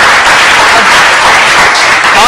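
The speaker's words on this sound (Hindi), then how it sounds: "इसी बात का जोरदार तालियां कमान गाइस" An audience breaks into loud, dense applause on a cricket talk show about the Pakistan v India T20 World Cup match, sustained and close for the whole stretch.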